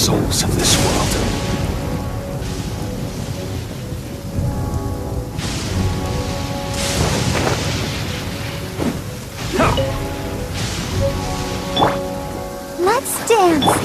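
Steady rainfall with rolling thunder booms in the video game Genshin Impact, a dense patter continuing throughout while musical tones and other game sounds play over it.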